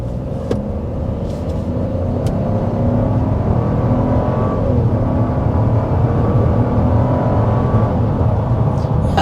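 Road and engine noise fills the cabin of a 2024 Buick Encore GX small SUV cruising at highway speed: a steady, loud low rumble and whir holding evenly throughout, with no speech.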